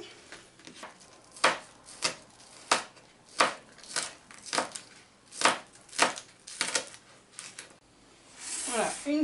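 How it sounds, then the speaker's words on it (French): Onions being chopped with a knife on a cutting board while preparing Réunion-style bouchons with minced meat: a dozen close, sharp, irregular knife strikes, ending with a brief scraping sweep. "On va découper nos oignons."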